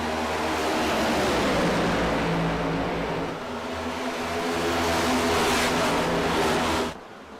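A pack of race cars accelerates at a green-flag restart at Charlotte, a loud sustained roar of engines climbing in pitch as they pass close by, then cutting off abruptly at the end.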